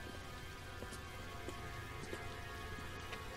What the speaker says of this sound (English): And look, it started to rain.